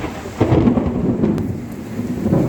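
Heavy rain during a flood in a Varanasi colony, a loud continuous downpour with deep rolling thunder rumbling underneath.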